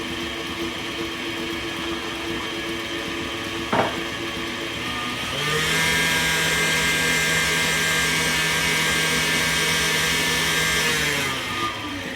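A stand mixer whips gluten-free zucchini banana bread batter made with flour and eggs, its steady motor whir starting partway through and running loud and even for several seconds before cutting off.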